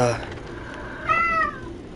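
A pet cat gives a clear, drawn-out meow near the microphone, a single rising-and-falling cry lasting about half a second, following a brief earlier vocal sound over low background noise.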